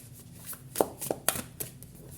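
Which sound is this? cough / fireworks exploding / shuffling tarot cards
shuffling tarot cards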